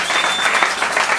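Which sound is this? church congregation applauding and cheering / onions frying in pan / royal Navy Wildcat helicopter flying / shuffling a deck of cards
church congregation applauding and cheering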